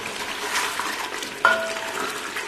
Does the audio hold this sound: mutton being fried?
yes